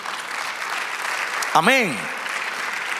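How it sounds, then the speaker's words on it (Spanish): Church congregation applauding during a Spanish-language sermon, a steady wash of clapping throughout, with a spoken word and a brief rising voice cutting through near the middle. "Dale un aplauso al Señor."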